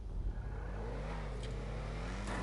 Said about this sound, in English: if you can hear as I'm driving, that engine is very quiet